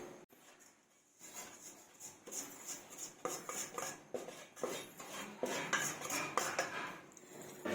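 Roasted coconut for gond pak is scraped and tipped into a large cooking pot with a metal spoon, giving repeated clinks and scrapes of utensil against metal, moderately near and without talk.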